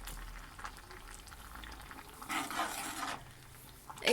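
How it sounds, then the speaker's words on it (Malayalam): Prawn and mango curry simmering in a pot, heard as a soft, steady bubbling. A louder burst of boiling or stirring swells midway through, and a clatter comes at the end. "ഇനി അതൊന്നുകൂടി മിക്സ് ചെയ്തിട്ട് വേവിക്കാനായിട്ട് വെച്ചിട്ടുണ്ട്"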